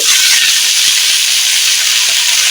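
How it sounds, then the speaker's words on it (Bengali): Spinach sautéing in hot oil in a pan produces a loud, dense, unbroken sizzle that stays steady throughout. "পালং শাকটা প্রথমে কষিয়ে নেব"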